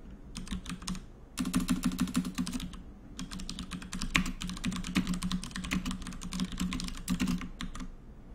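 Steady clatter of typing on a computer keyboard, close and continuous in bursts with brief pauses, low room hum underneath, no voices.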